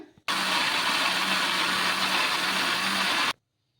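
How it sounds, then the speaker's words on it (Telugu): A mixer grinder runs with its lid on, grinding dosa batter in a home kitchen: a loud, steady motor whine with a low hum starts abruptly, holds for about three seconds, then cuts off to silence. "ఇప్పుడు మూత పెట్టేసుకొని ఇంకా మిక్సీ పట్టేసుకుందాం"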